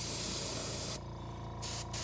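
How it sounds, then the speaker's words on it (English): An airbrush sprays paint onto a popper fishing lure head, giving a steady close hiss that cuts off abruptly after about a second, then a brief second puff. "I'll give it a quick, just a little bit of a spray around the mouth"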